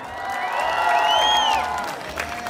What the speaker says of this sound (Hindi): करिश्मा कपूर के लिए एक बार हो जाए जोरदार तालियां